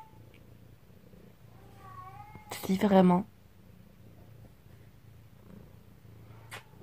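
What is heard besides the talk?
cat meowing and purring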